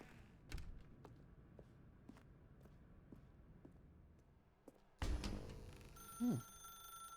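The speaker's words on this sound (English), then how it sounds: "Now pick up the phone." A telephone rings inside the dark room of the video game The Stanley Parable. A short ring with a bright, tonal burst comes near the end, after quiet ambience and faint footstep-like taps.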